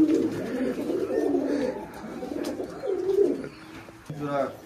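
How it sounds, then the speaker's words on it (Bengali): Giribaj pigeons kept in an enclosed room coo in low, rolling murmurs, several birds close by with overlapping calls and a short fluttery burst near the end, with a voice talking faintly at times. "আবদ্ধ ঘরের মধ্যে কবুতর লালন পালন করে থাকে"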